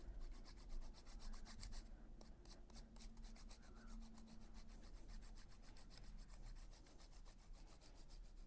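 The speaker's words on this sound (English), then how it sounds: "seaweed using sandpaper and this Inktense block." Sandpaper rubbing against an Inktense pigment block, a steady, continuous rasping scrape with rhythmic strokes throughout, close and fairly quiet, with no talking.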